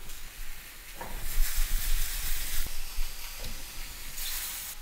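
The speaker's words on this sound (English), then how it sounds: "now that my mushrooms have cooked down a little bit, they've started to soften and they're releasing some of their juices" Mushrooms softening and releasing their juices in a hot pan for an Italian mushroom salad give a steady, close sizzle and hiss, broken by a few soft stirring scrapes, with no talking.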